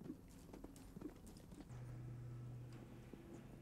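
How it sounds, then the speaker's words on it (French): Hooves of a vaulting horse, formerly a rodeo horse, moving at walk, trot and canter, faint rhythmic thuds under a low steady background hum. "Je commence au pas, je poursuis au trot, puis au petit galop."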